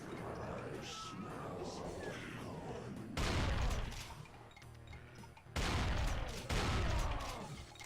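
Chaingunner enemies fire in a first-person shooter, with two loud bursts of rapid gunfire rising over continuous game noise and other shots.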